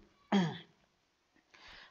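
A single short, throaty cough close to the microphone, followed by quiet and a soft breathy noise.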